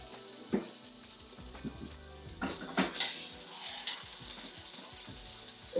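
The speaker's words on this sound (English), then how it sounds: "Let it sizzle." Salmon fillet laid skin side down in a hot pan, a soft sizzle running under scattered clinks and knocks of pans and utensils, with a sharper clatter near the middle.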